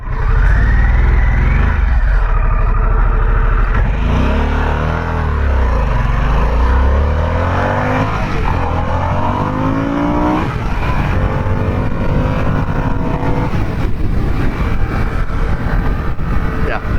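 A 2021 Harley-Davidson Sportster S motorcycle accelerating hard on a ride, its loud engine roar rising and shifting through gears continuously throughout, with wind rush mixed in.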